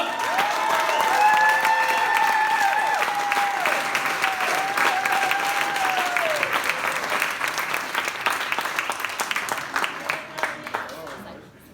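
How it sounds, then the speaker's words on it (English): Loud, sustained audience applause at a congressional campaign kickoff event, with scattered cheers and voices over the clapping, tapering off gradually toward the end. "So give you a big round of applause for my best friend, Doug Basler."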